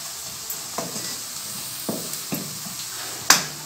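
Onions frying to light golden in a pan for beans keema, a soft close sizzle broken by a few sharp spoon scrapes and a clack near the end, with no voices.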